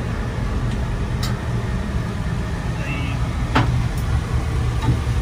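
A 1971 International Scout Commanche 800B on a test drive, its engine a steady low rumble with road and cabin noise, plus a few brief clicks and knocks from inside the vehicle.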